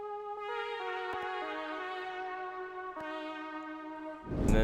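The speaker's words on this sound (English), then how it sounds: "He pulled up this shiny synthy brass." A shiny synth brass patch from Analog Lab holds sustained, bright harmonic-rich chords that shift pitch a few times, with a loud burst of a new sound entering at the very end; no talking.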